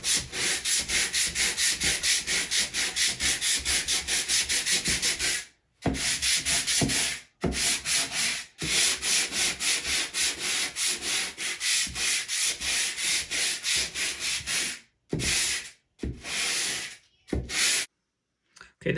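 Rhythmic hand sanding of a drywall patch with 180 grit sandpaper, close and steady scratchy rubbing strokes that run continuously, then break into shorter bursts separated by brief pauses.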